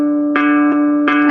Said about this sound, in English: That's the sound of a D.